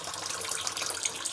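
Liquid soap base poured into a container while making soap, a brief close, steady pouring trickle with a soft splashy hiss.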